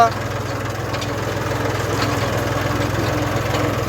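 A tractor engine drones at low pitch throughout, a constant idling rumble with a faint rhythmic throb, close by and fairly loud.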